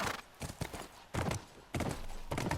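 Horse hooves clip-clop in The Last of Us Remastered, a run of quiet, irregular thudding steps that come in short bursts and sound fairly close.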